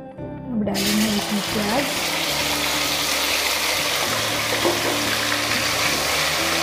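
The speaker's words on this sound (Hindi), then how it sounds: "प्याज पकाएंगे थोड़ी देर। हल्का गुलाबी होने तक पकाएंगे इसको।" Onions fry in hot oil in a pan for a fish curry. A loud, dense sizzle starts abruptly and then holds steady and close without a break.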